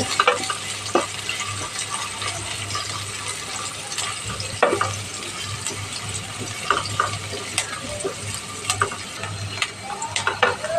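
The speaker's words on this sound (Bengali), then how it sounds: "পেঁয়াজটাকে একটু লাল লাল করে ভেজে নেব" Chopped onion browning in a hot pan for a pumpkin bhaji, a dense continuous sizzle with frequent scrapes and clinks of a stirring utensil against the pan, close and fairly loud with no talking.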